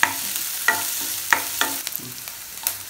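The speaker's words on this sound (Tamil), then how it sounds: "இப்போ குடமிளகாய் சேர்த்து ஒரு அரைப்பதத்துக்கு வதக்கி விட்டுருக்கேங்க" Sautéing capsicum in a pan: a spatula scrapes and stirs in repeated strokes about every half second over a faint, steady sizzle.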